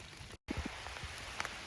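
Rain falls steadily in a forest during mushroom picking, a soft continuous patter on leaves with occasional distinct drops landing nearby, faint and unbroken apart from a momentary gap.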